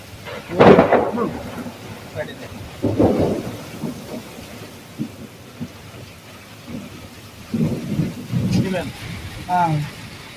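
Heavy, unexpected rain pours down steadily outdoors at a rural site, a dense hiss with rumbling swells, while people talk intermittently over it.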